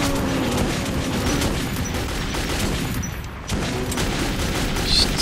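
Dense, continuous gunfire bursts and booms in the video game Metro 2033 fill the clip, a rapid crackling barrage with a brief lull midway.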